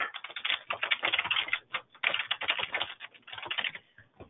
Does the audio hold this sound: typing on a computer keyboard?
yes